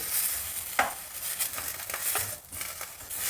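Finely chopped tomatoes stirred and sautéing in a pan, with a soft steady sizzle and occasional spatula scrapes and clicks, close and alone.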